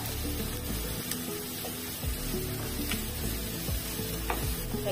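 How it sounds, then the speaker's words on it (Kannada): Onions frying in a pan until reddish, a steady close sizzle with occasional stirring scrapes and clinks, no talking. "ಇನ್ನು ಈ ಈರುಳ್ಳಿ ಕೂಡ ಕೆಂಪಗಾಗುವ ತನಕ ಹುರ್ಕೊಂಡ್ರೆ ಆಯ್ತು"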